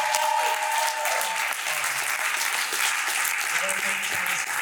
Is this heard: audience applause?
yes